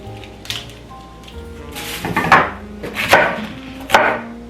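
A knife chopping bok choy on a cutting board, a quick run of crisp, close cuts that turns into louder, sharper chops over a few seconds, with no talking.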